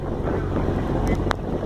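Strong wind and rough, high seas with rain batter a small fishing boat, a dense continuous roar with buffeting wind noise on the microphone and a few brief knocks.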